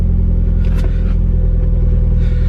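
A Mitsubishi Evo X with a cat-back exhaust and a possible exhaust leak idles nearby, giving off a deep, steady, throaty rumble that stays loud and even throughout, with no voices.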